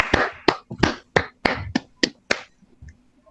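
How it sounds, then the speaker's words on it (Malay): About seven sharp, separate hand claps in an uneven rhythm, close and fairly loud, like a small group praising a correct answer in a classroom quiz, with a faint voice trailing off at the end. "Betul, tepuk tangan."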